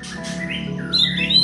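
A white-rumped shama, a crossbred F4 bird, gives a loud, close call of whistles and harsh chatter over a faint low hum.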